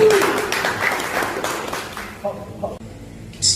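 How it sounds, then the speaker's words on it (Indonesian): Brief applause from the audience at the opening of a regional press association congress in South Tangerang, Indonesia, clapping that fades out after about two seconds, with voices audible and a few scattered sounds afterwards. "Boleh tepuk tangannya,"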